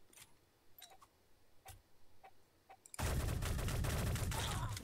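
Sniper rifle fire in the video game Shell Shockers, sparse faint sharp cracks at first, then a loud dense burst of rapid firing and noise taking over for the last two seconds.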